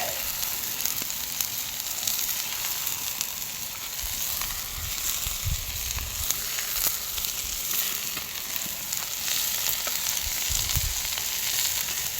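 Three kilograms of onions sizzle and fry steadily in a pan over an open campfire, a continuous bright crackle with occasional low stirring thumps and no talk.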